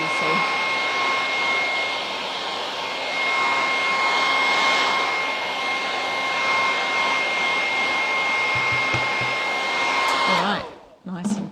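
A dryer blows a steady, loud whooshing hum to dry a stencil project, running evenly for about ten seconds before cutting off abruptly.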